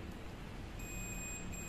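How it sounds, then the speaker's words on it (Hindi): A multimeter's continuity buzzer sounds a thin, steady high beep that begins partway through as its probes touch a headlight wire on a TVS Apache BS6 motorcycle, with faint background hiss. "आप देख पा रहे होंगे मल्टीमीटर के अंदर बजर बोल रहा है"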